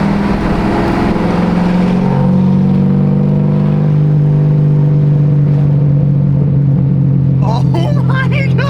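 Loud Corvette exhaust while driving, a deep rumbling drone that swells as the engine pulls, with a voice speaking over it near the end.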